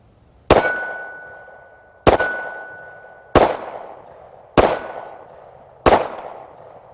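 Hellcat pistol firing, five sharp metallic reports spaced about a second and a quarter apart, each ringing briefly before decaying, loud and close with no talk.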